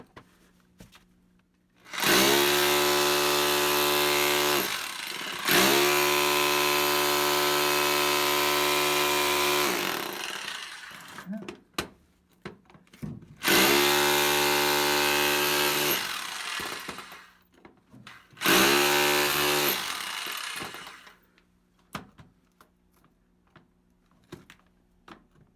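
A Bosch Bulldog Xtreme 11255VSR SDS-Plus rotary hammer chisels concrete in loud, close bursts of harsh hammering, four long runs separated by short pauses and scraping.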